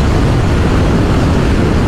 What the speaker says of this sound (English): It's a big twin, so there is a bit of an engine vibration, natural engine vibration, and you feel that at these speeds.